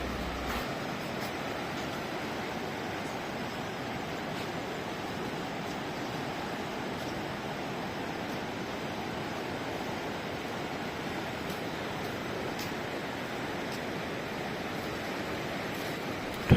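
The Ganges flowing near Gangotri in the Uttarakhand mountains, a steady, even rush of water lasting the whole stretch, unbroken and moderately loud with no voices.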